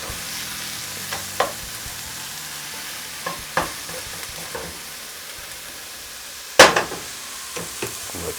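Food fries in a pan during budget meal prep before a bodybuilding contest, a soft steady sizzle broken by scattered stirring scrapes and clacks, with one sharp louder knock near the end.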